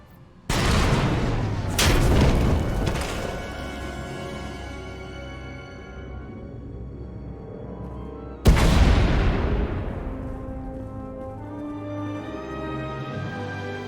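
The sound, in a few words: explosions in Star Wars: The Old Republic video game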